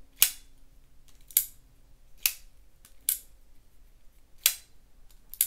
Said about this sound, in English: Listen to the acoustics on this too. It almost sounds like an aluminum knife does.